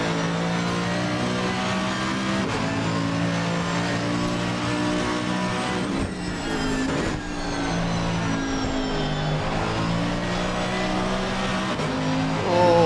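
AMG GT3 race car engine in Assetto Corsa Competizione, a loud continuous engine roar with layered harmonic tones rising and falling as it revs through gears, sustained the whole time with no talk.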